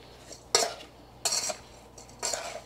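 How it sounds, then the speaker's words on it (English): Spoon scraping a bowl as berries are mixed with cinnamon, flour and sugar, three distinct clinking strokes spaced about a second apart in a quiet kitchen. "And you mix these all together."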